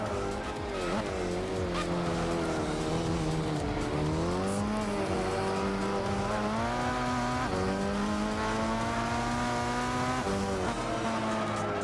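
A race car in Gran Turismo 6 drives through a chicane. The engine drones steadily, and its pitch rises and dips with each gear change and turn, with faint tire squeal beneath. It runs loud and continuous throughout, with no voices.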